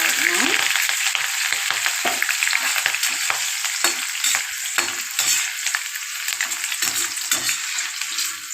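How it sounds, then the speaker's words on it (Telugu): Green chilies and curry leaves frying in hot oil left over from frying cauliflower: a loud, continuous close sizzle and crackle with scattered pops and occasional stirring scrapes. "ఇప్పుడు క్యాలీఫ్లవర్ వేయించుకున్న ఆయిల్లో పచ్చిమిర్చి, కరివేపాకు వేయించుకోవాలన్నా."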